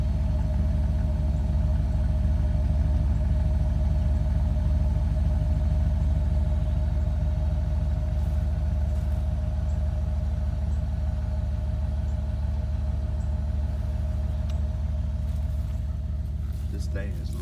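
A Dodge Ram van's engine idles through its exhaust pipes on a cool, chilly morning, a steady, low, even rumble that holds constant and fairly close throughout.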